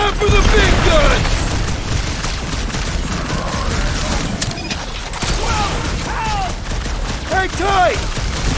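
Heavy gunfire in the Guardians of the Galaxy video game, a loud sustained barrage of mechanical blasts and booming shots mixed with chaotic combat sounds, with voices speaking over the fighting.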